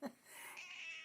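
A cat gives a single short, close meow that rises into a sustained, drawn-out tone, heard alone in a quiet room.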